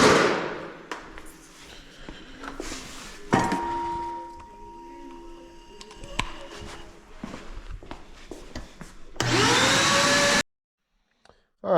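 A vacuum cleaner in a workshop beside a Farmall Super C tractor, mostly clattering handling and thumps before the motor roars on loudly near the end and cuts off abruptly.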